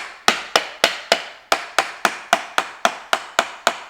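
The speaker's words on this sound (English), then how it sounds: "we get to smash it with a hammer" A hammer smashes an IKEA furniture part during assembly, about a dozen sharp, loud, evenly spaced blows, each with a short ringing decay, with no talk.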